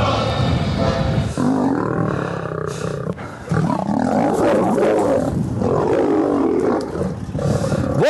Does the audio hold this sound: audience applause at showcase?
no